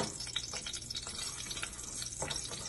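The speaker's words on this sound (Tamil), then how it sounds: "நெய்யும் எண்ணெயும் சூடானதும் கரம் ஐட்டமும் உள்ள சேர்த்துருங்க." Whole garam spices sizzling in hot ghee and oil in a pan for plain kushka biriyani, a steady close hiss and crackle with no voices.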